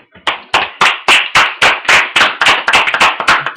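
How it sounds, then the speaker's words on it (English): A burst of hand clapping at a live talk show taping, sharp regular claps about four per second, loud and close, like a small group applauding steadily. "give him a round of applause"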